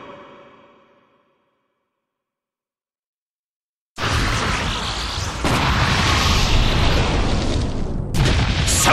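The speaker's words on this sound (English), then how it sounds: "Self-destruct detonates." A Self-destruct explosion in Pokémon Battle Revolution erupts as a sudden loud boom after a short silence, then rolls on as a sustained roaring blast with crackling bursts.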